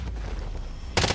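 Gunfire erupts in Call of Duty Warzone as an abrupt, loud burst near the end of a short stretch of busy game noise.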